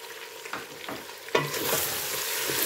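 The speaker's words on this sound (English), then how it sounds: "Stir that because that turmeric is going to the bottom, it's going to burn." A curry of onion and turmeric sizzles in a pan while a spoon stirs it, with scraping strokes over a steady crackling fry that grows louder partway through, close up and without talk.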